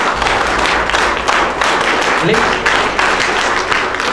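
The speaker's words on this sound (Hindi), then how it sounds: "और आपके टीचर्स यहाँ पर हैं, उनके लिए भी जोरदार तालियां हो जाए।" Pupils at a rural junior high school clap loudly and steadily in honour of their teachers, with a voice briefly audible under the applause.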